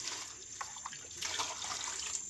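Tap water runs steadily over fresh tomatoes being washed in a home kitchen sink, a soft continuous hiss with light splashy trickles, fairly faint and with no talking.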